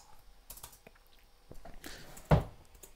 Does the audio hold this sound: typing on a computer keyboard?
yes